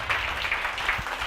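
A church audience clapping during a sermon, a brief burst of scattered hand claps at moderate distance, fairly even and unbroken for just over a second.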